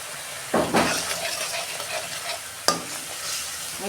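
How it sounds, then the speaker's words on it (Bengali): Ground spices being sautéed in a pan for an egg curry with mixed vegetables, a close sizzle with two sharp scraping stirs of a spatula against the pan. "ভালো করে কষাবো মশলা কাঁচা গন্ধটা যাতে চলে যায়"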